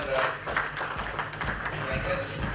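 Continuous applause from a summit audience honouring a speaker from IBM India, a dense, steady wash of clapping hands that fills the room and holds an even loudness throughout.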